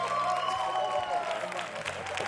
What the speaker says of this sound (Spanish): Un aplauso, Sergio del Alma.